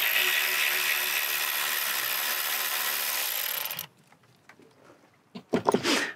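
A ratchet works on the bolts of a Mercedes coolant recirculation pump with a continuous loud whirring rasp that stops abruptly, followed by quiet clicks and a few sharp metallic knocks close by.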